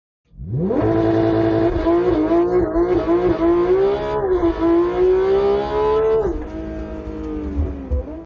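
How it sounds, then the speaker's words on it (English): A 2018 Porsche 911 991.2 GT3 launches hard in a straight line, its engine roaring loudly up through the revs with quick gear changes, heard close and alone for several seconds before easing off. "Let's go for a straight line acceleration test first."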